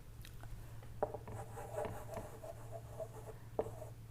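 Chalk or marker strokes on a board during an engineering lecture, soft and intermittent scratches and taps over a low steady hum, with no talking.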